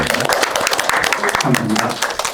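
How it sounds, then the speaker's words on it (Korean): An audience at a hospital policy seminar on disability access claps to welcome a speaker, a loud burst of applause lasting a couple of seconds, with some voices mixed in. "다양한 활동을 하고 계신 이상국 회장님을 좀 큰 박수로 다시 맞이했습니다"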